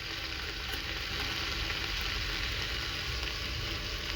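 Potatoes and cluster beans cook in a hot pan for a sabzi, giving a steady, even sizzle of frying close by, unbroken and without talk.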